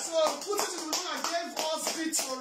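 A church congregation claps in steady rhythm during worship, the claps near and evenly spaced, mixed with voices singing or calling out over them.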